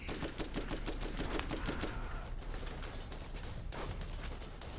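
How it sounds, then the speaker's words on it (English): Gunfire in Borderlands during a turret fight, a rapid rattling volley of shots in the first two seconds followed by quieter scattered reports and a lingering background rumble. "Yeah, snipe the guy on that fucking turret, cause he's hurting me."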